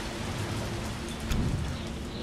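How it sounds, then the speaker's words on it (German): Heavy rain in the video game Resident Evil 3, a dense steady downpour hissing evenly across the whole clip with a faint low rumble, no voices. "das ist ein heftiger Regen"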